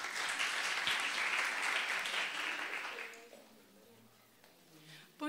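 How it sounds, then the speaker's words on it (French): Audience applause at a French-language contest for learners in Iraq, dense clapping for about three seconds that then thins and fades, leaving quiet room sound and faint murmurs. "On applaudit pour l'encourager."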